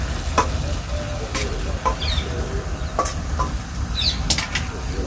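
Flattened rice being tipped into a kadai and stirred through softened onions, with a steady close sizzle and repeated spoon scrapes against the pan, no talking.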